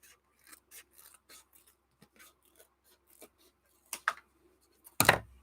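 Adhesive foam trimmed for a 3D sticker, a run of small soft snips and rubbing scrapes, close and quiet, ending in one louder sharp cut.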